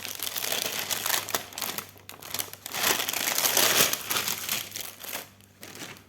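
An OHP plastic sheet interleaved with paper crinkles and rustles continuously as it is handled close by, with bursts of crackling and no talk.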